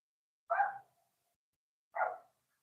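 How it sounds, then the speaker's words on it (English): A neighbour's dog barks twice from a short distance, two short separate barks about a second and a half apart against otherwise quiet surroundings. "That's the neighbor's dog."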